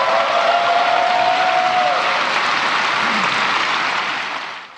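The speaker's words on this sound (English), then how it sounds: "President Ferdinand R. Marcos Jr. received the longest applause, cheers, and standing ovation after making that statement during his fifth State of the Nation address" A large audience at the Philippine State of the Nation address gives loud, sustained applause mixed with cheers, a dense steady roar that holds for several seconds before starting to fade.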